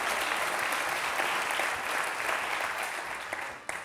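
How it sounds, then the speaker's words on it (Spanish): An audience breaks into steady applause, a dense even wash of clapping that holds for several seconds before thinning out at the end. "un aplauso para"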